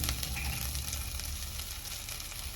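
Chopped paneer pieces fry in a pan for a bread roll filling, giving a steady, close sizzle that hisses softly and evenly with no talking.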